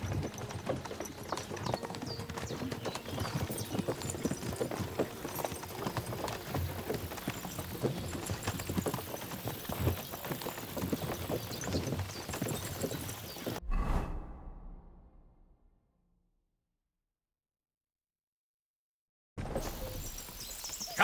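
Horse hooves galloping in the video game Kingdom Come: Deliverance II, a steady loud drumming of clip-clop beats under game ambience for about fourteen seconds, then fading out into silence before sound briefly returns.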